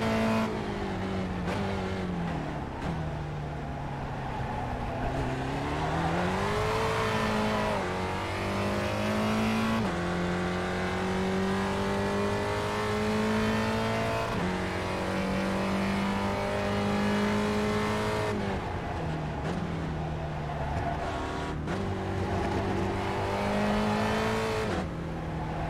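A Spec Racer Ford race car accelerates around Oulton Park in the iRacing simulator. The engine note climbs and drops repeatedly through gear changes, a steady and prominent drone that briefly bogs down before pulling hard again.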